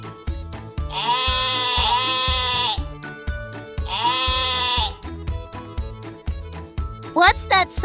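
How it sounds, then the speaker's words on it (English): Two long, loud, wavering sheep bleats with a bright nasal tone stand out over a bouncy children's music backing with jingling percussion, followed by a short high squeaky flourish at the end. "It's the woolly sheep choir."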